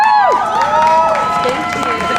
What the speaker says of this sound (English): Let's give a warm round of applause to Nancy.